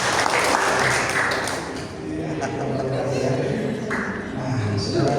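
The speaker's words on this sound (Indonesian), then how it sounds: "Berikan tepuk tangan yang mulia buat Tuhan." A church congregation claps together during a worship service, a dense, sustained patter of many hands that fills the whole stretch, dipping slightly midway before swelling again.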